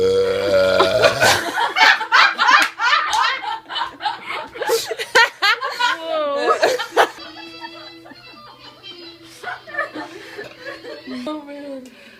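During an apartment burping contest, one long loud belch rolls out, followed by chuckling, snickering and lively chatter among the participants.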